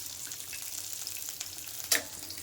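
Egg sundori pitha fries in hot oil, giving a soft, continuous sizzle with small crackles and one sharper clink of a stirring utensil near the end.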